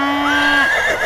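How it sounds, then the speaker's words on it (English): A horse rearing in a radio drama lets out a loud, close whinny that rises and wavers for about a second. "His horse rears as well."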